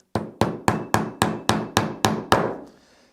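Nine sharp hammer blows strike small 13 mm nails into a leather trunk, evenly spaced and close up, each with a short ringing decay and no talk.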